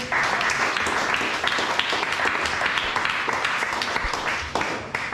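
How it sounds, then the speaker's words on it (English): A poetry reading audience applauds steadily, a dense wash of many hands clapping that holds for several seconds before tapering slightly at the end. "They clap when I say your name."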